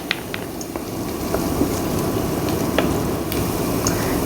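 Garlic sizzles in hot olive oil as the base for lasagna sauce, a steady close crackling fry with faint popping and occasional stirring clicks, no voices.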